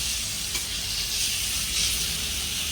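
Taro and fish fry together in a pan, producing a strong, even sizzle with faint stirring movements, heard up close and without any talking.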